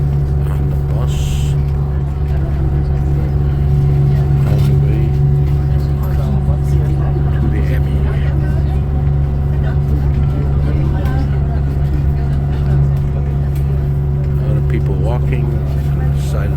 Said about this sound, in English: On the bus.